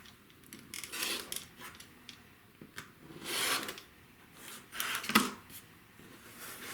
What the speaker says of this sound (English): Now we cut the right side and the top.